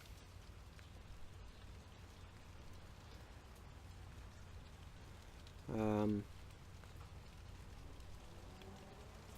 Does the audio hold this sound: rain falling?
yes